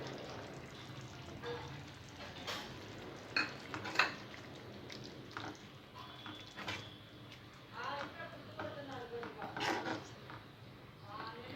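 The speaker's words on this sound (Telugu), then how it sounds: "గ్రేవీ కొద్దిగా ఉడికిన తర్వాత ముందుగా ఉడికించి ఫ్రై చేసుకున్న ఎగ్స్ వేసుకోవాలి." Pre-boiled, fried eggs added to Hyderabadi egg kurma gravy and stirred, giving intermittent clinks and scrapes of a utensil against the pot while someone talks throughout.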